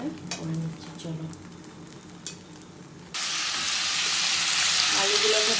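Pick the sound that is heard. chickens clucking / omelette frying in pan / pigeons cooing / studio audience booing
omelette frying in pan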